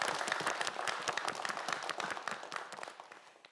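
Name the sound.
audience applause for quiz contestants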